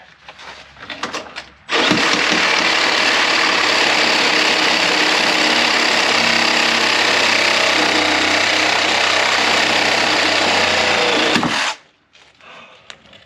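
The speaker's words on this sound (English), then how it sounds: "I'm just gonna try and keep cutting that bottom nut off till I can get it out of there" A power cutting tool grinds through a bottom nut on a 2002 Yukon XL, one loud, continuous harsh whine lasting about ten seconds, close up, with quieter workshop clatter before and after.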